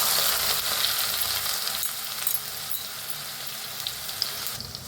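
Chopped onion frying in hot oil seasoned with cumin and mustard seeds, a steady dense sizzle with crackling and faint stirring throughout, close and continuous.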